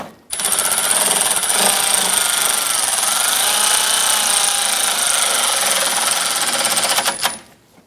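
A bolt is snugged down on the AC condenser of a 2004-2008 Acura TL, giving a loud, steady mechanical whirring buzz that runs unbroken for about seven seconds and then cuts off, with no talk over it.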